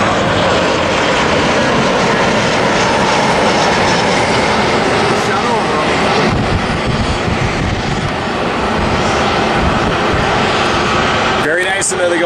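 A United Boeing 737 roars in on approach to land at San Diego, a loud, continuous broadband engine rumble that holds steady for several seconds before easing slightly near the end.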